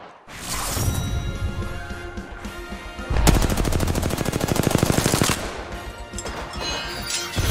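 Sustained automatic gunfire rattles from a weapon in the battle royale video game Apex Legends, a dense rapid burst that intensifies midway and then resumes, loud and close with no talking.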